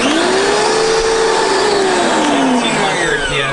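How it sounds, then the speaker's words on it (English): A Karcher 1700 PSI pressure washer fitted with stainless steel attachments and a 40-degree nozzle rinses a car. Its steady, loud motor whine rises and falls gently, with a constant hiss of spray throughout. "I'm gonna rinse it down with my MTM stainless steel attachments with the 40-degree nozzle"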